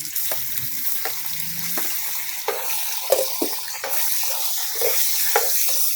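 Fatty pork pieces frying for dinuguan, a steady close sizzle with intermittent stirring scrapes and clatters in the pan, no talk.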